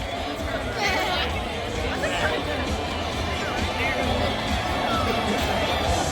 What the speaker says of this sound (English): prior to the show, the crowd was really into doing the wave